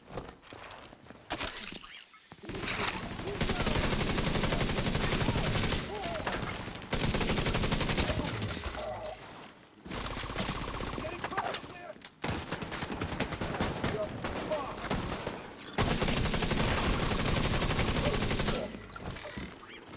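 Automated turret in The Division 2 video game firing sustained bursts of gunfire, loud and dense, broken by brief pauses, with game battle noise throughout.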